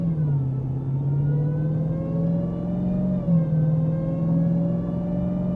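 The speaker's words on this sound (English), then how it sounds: "I just love the noise of that supercharger whine" A 2023 Dodge Demon 170 with its supercharged Hemi V8 pulls hard under steady acceleration, a loud, continuous engine drone with rising supercharger whine heard from inside the cabin, no talk.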